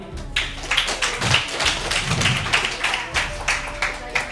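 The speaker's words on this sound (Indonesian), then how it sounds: "Kita tepuk tangan sekali lagi." An audience at an interfaith debate claps hands in a loose, repeated rhythm of distinct slaps, moderately close, with a voice briefly audible underneath.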